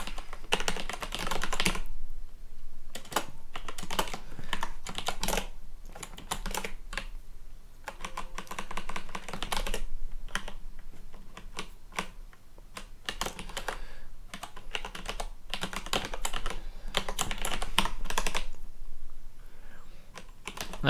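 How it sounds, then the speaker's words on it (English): Fast, continuous typing on a computer keyboard, dense clusters of key clicks in bursts with short pauses between, close and clear, no voices. "I was typing furiously"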